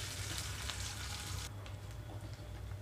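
Onions and green chillies frying in oil, a dense, close crackling sizzle that softens noticeably halfway through and then keeps up at a lower, steadier level, with no one talking.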